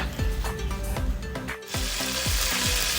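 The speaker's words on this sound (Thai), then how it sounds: "น้ำก็แห้งแล้วนะคะเราจะลวนต่อให้เหลืองเลยค่ะ" Pork belly with lemongrass sizzles loudly and steadily in a pan during a stir-fry, with repeated scraping strokes and a brief dip in the hiss partway through.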